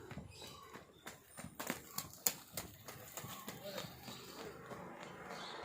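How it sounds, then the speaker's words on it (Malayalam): A cow and its calf walk along a village road, their hooves clip-clopping in an uneven rhythm close by, with faint voices and ambient noise in the background. "പുറകെ പശുവും വരുന്നുണ്ട്,"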